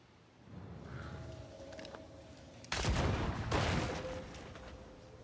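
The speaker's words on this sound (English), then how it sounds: "Oh, I can shoot that down." Gunshot from shooting something down in Banishers: Ghosts of New Eden: two loud, close blasts about a second apart that ring out over a low ambient hum and a faint tone.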